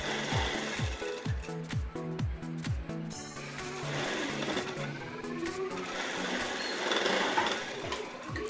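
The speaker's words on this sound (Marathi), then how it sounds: "आता फिटिंग करताना पहिला मी वरून शिलाई देते आणि एकदम पाव इंचाची शिलाई द्यायची" Sewing machine stitching a quarter-inch topstitch seam on a katori blouse, rapid mechanical clatter in short bursts and then a longer steady run, close up.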